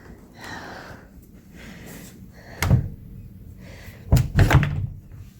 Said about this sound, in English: That's the doors into the bathroom.